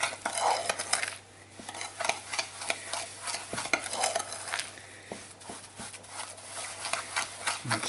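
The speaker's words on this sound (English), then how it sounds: "Take a spoon, mix it up." A spoon stirs cinnamon bun filling in a bowl, making repeated soft scraping and clinking strokes at close range, with no talk.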